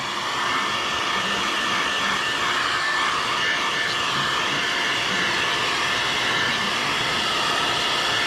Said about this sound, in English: I'm keeping my distance with this heat gun because I want it to be hitting at a wider surface area